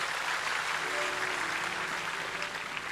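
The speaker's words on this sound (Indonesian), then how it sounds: "Yang percaya berikan tepuk tangan buat Tuhan." A church congregation at a healing crusade claps together, a dense steady wash of applause from a crowd filling the whole moment with no break.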